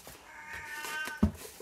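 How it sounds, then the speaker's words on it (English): A kitten meows once with a rising, harmonic cry that ends in a sharp, louder burst, heard close up in a quiet indoor room. "Noisy kitten's going off"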